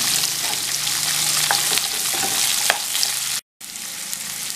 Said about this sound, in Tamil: வெங்காயம், கொஞ்சமாக உப்பு இதெல்லாம் சேர்த்து நல்லா வதக்கிக்கலாம்